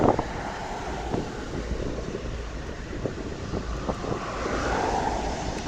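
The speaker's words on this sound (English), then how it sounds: "Singapore Airlines 777-200 landing at Wellington International Airport." A Singapore Airlines Boeing 777-200ER lands at Wellington International Airport. Its broad, distant jet roar blends with heavy wind buffeting on the microphone and swells slightly toward the end, with no talk over it.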